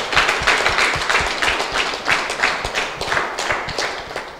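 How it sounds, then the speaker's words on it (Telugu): Hands clap in a crowded indoor gathering during a religious Gospel of Matthew lesson, producing loud, dense applause with rhythmic bursts that swell and dip steadily for several seconds. "గట్టిగా గట్టిగా చప్పట్లు కొట్టాలి."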